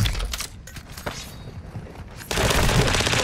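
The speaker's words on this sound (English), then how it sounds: "mortars are explosions" Call of Duty MW2 game combat with mortar explosions and gunfire: bursts of rapid shots and booms, then a loud, dense barrage in the final second.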